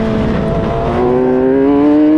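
An F3 race car accelerating hard at Silverstone, its engine note rising steadily in pitch as it gets on the power, loud and close with a strong tonal whine.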